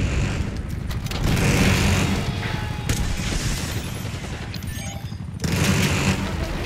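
Slow-firing SMG in Call of Duty: Black Ops 6, sustained bursts of close, loud gunshots at a measured rate with mechanical clatter, pausing briefly before another burst resumes.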